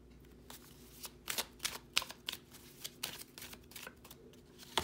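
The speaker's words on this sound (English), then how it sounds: "You guys know I don't like shuffling in camera, but I decided to do it." Tarot cards being shuffled by hand in quick irregular bursts of riffling and flicking, close up, with brief pauses between.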